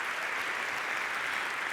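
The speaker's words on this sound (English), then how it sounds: "A round of applause for that milestone," Audience at a summit plenary on education applauds in a steady, dense wash of clapping that fills the whole moment without a break.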